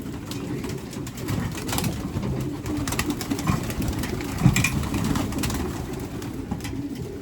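Racing pigeons coo repeatedly at their loft, soft throaty calls overlapping in a steady, moderately close chorus with faint background hum.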